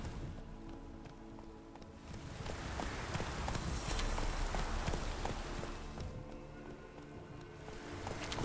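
Horse hooves galloping in The Witcher 3 Enhanced Edition, a fast, steady run of close, dense hoofbeats that swell louder through the middle and ease slightly toward the end, over a continuous rushing game ambience.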